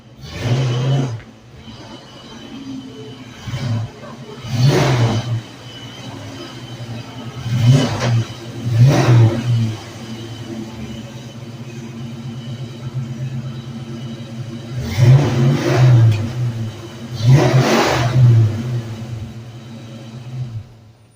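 A 1988 Saleen Mustang Fox body, car #423, idles with a low rumble between a series of sharp throttle blips, about six loud revs spread unevenly across the stretch.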